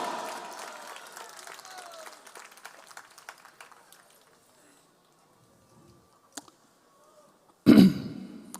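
Devotees at the Radha Madhava Golden Jubilee Festival clap in a modest round of applause that fades away within a few seconds. Near-silence follows, broken by a small knock and then a sudden brief loud burst near the end.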